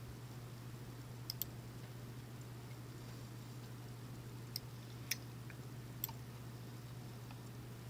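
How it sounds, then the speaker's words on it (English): A computer mouse clicks a link, several sharp faint clicks spaced out over a steady low electrical hum in a quiet room. "I'm going to click the detail link"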